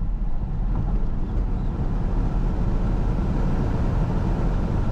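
A Volvo C40 or XC40 electric car accelerating hard on an open road, a steady, loud roar of wind and road noise from inside the cabin, constant throughout with no speech.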